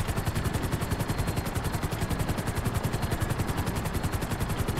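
A worn helicopter in GTA Online: the rotor beats in a fast, steady chop over a loud, rough engine drone, continuous and close throughout.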